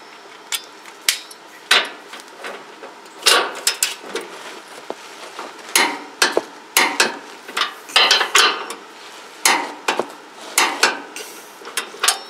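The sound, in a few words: torque wrench tightening bolts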